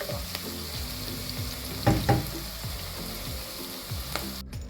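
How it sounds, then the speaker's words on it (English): Capsicum pieces frying in hot oil give a steady close sizzle, with a few sharper stirring clatters near the middle and a brief cutoff at the very end. "So after frying it for at least 3 to 4 minutes, you can remove it from the oil."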